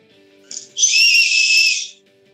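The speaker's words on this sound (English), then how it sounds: "it's got an emergency whistle" A compact emergency survival whistle, part of a multi-tool with a compass and magnesium striker, gives one loud, shrill, sustained blast after a brief starting chirp, close and alone.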